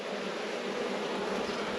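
Honey bees in a rescue hive buzz continuously at close range, a steady dense drone with no pauses and no voices.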